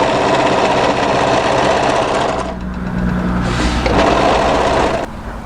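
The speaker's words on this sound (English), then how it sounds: "when you get to the second notch, which is here, run your overlocking off" An overlocker runs a seam on a dress in fast, loud, continuous mechanical whirring bursts, pausing briefly once before starting again and then stopping near the end.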